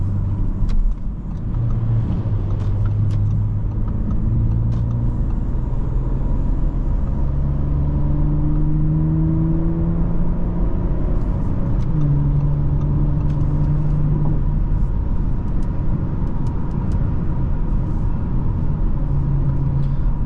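A 2024 Audi S5 Sportback's 3.0-litre turbocharged engine pulls hard from inside the cabin, a deep rising drone climbing through gears with shift dips, loud and sustained, no talk.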